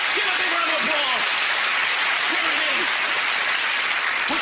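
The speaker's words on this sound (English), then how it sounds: "Give a big round of applause." Theater audience at a magic show giving a big round of applause, a thick, steady roar of clapping throughout, with a few voices calling out over it near the start.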